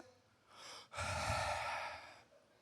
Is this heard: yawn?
yes